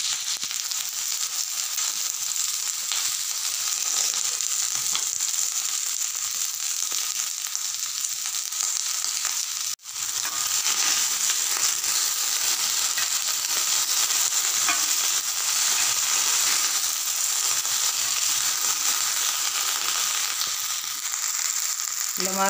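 Okra (ladyfinger) sautéing in oil over a low flame, a steady dense hiss of frying that runs unbroken and close, with faint scraping of the stirring spoon and one brief dropout midway.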